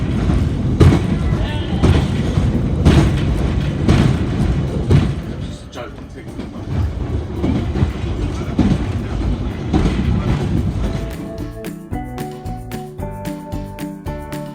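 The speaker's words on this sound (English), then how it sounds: "enjoy the sights and sounds of these vintage 1930s tube trains" A vintage 1938 ex-London Underground tube train on the Ryde to Shanklin line, Isle of Wight, rumbles along loudly with rhythmic clickety-clack over rail joints, then brakes squeal with high tones near the end.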